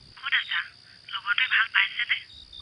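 A telephone rings with a warbling electronic tone in two bursts, the second longer, fairly close and clear over a low background hum.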